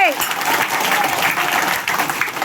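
A crowd breaks into loud, steady applause close by, a dense unbroken clatter of clapping hands that runs through the whole moment, with a voice briefly audible at the start.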